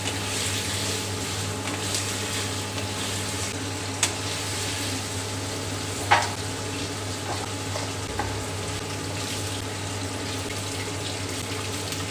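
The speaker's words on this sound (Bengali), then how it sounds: "অল্প করে কিন্তু পানিরটা ভাজতে হবে" Paneer fries in a pan with a steady, close sizzle, joined by a couple of sharp utensil clinks partway through, with no speech.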